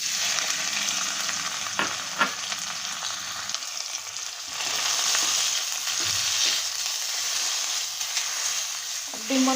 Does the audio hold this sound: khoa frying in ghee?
yes